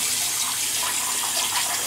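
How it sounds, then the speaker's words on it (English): Tap water runs steadily into a sink while a shaving bowl is rinsed out, a close, continuous splashing gush with no pauses or speech. "I'm just washing out the bowl."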